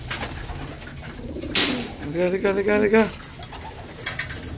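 A pet pigeon coos in a short run of soft, throaty, warbling calls up close, with a brief noisy burst just before and a person speaking a single word nearby.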